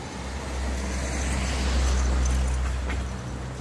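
A car rolls past on a nearby road with a potholed surface, a low engine and tire rumble swelling to a peak in the middle and then fading.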